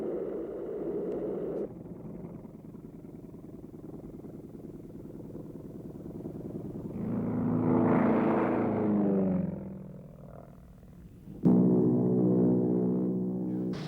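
A 1950s US Air Force propeller-driven advanced trainer, armed with bombs, rockets and gun pods on six wing hardpoints, flies past with a steady droning engine that swells loudly, fades, then returns strongly, with no voices.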